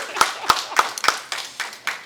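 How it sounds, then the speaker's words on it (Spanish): Clapping at a community gathering about local recovery in Puerto Rico: a handful of loud, close claps in a steady rhythm, then lighter scattered claps following, no voices. "hay que aplaudir"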